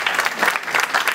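An audience at a university talk on a governor's election applauds steadily, a dense, even wash of many hands clapping close by with no pauses.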